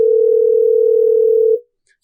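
A telephone line tone sounds while someone places a call: a single loud, steady electronic tone held for about one and a half seconds, then cut off into silence.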